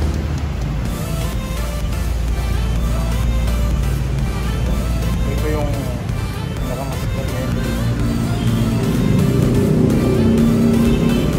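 A new 2021 Honda Click 150i fuel-injected scooter, gold and black, with its engine running as a steady low rumble throughout, with people talking over it.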